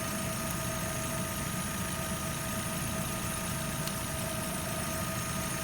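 A Vauxhall Zafira engine runs at a steady idle, a constant close mechanical hum and rumble with no breaks and no voices.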